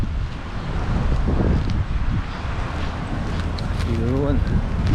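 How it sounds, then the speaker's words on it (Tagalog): Strong wind buffets the microphone in a steady, loud rumbling roar with gusting fluctuations, heard outdoors beside a Nissan Navara, with faint voices underneath. "Yan, mahangin guys."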